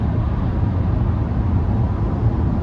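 Steady broadband roar of wind and road noise inside a Tesla Model Y RWD driving on a highway at night, constant and fairly loud with no voices.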